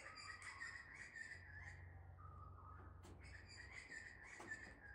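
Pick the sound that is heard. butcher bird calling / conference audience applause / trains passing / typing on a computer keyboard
butcher bird calling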